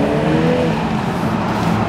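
A new BMW Z4 in comfort mode drives along Chapman's Peak Drive near Cape Town, a loud steady engine drone and road noise heard from inside the car.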